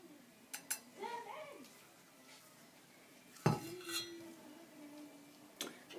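A metal spoon working thick flaxseed gel through a strainer gives a few quiet clinks and scrapes, with one sharper knock midway, spaced apart over a faint, low background.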